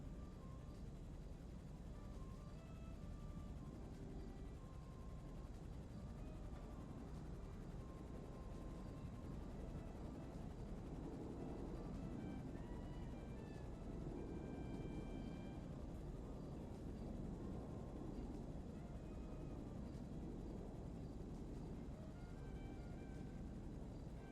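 A Cargobob helicopter lifting cargo in GTA V, a faint distant rotor drone with a low rumbling engine bed running steadily throughout, with scattered tonal game sounds on top.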